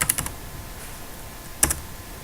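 Keystrokes on a computer keyboard as a mkdir command is entered at a Linux command line: a quick burst of four or five close, crisp taps, a pause, then one more sharp double tap, alone with no talk.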